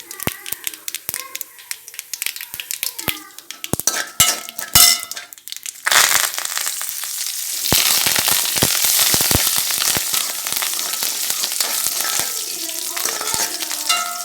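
Mustard seeds and urad dal spluttering in hot oil while curry leaves go in, the pan sizzling and crackling loudly with sharp popping bursts for an idli podi tempering. A voice speaks over the first half.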